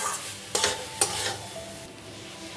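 Soy sauce and red chili sauce with a little water being stirred in a pan, a soft continuous sizzle broken by two sharp scrape clicks of the spoon early on, close and steady.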